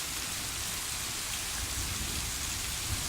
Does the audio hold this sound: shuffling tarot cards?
no